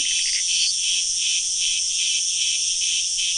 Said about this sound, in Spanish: Se trata de grillos, obviamente, y chicharras.